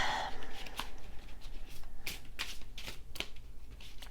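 Tarot cards being shuffled by hand, giving quiet, quick papery riffles and crisp clicks that run on continuously with uneven rhythm.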